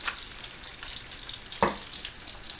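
A lemon and butter topping bubbles gently in a pan. A soft, steady sizzle runs throughout, broken once by a short clink partway through.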